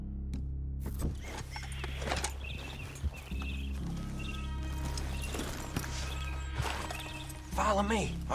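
Horses in the Red Dead Redemption 2 video game, hooves clip-clopping and shuffling with tack rattling and a brief whinny, under spoken game dialogue and background music.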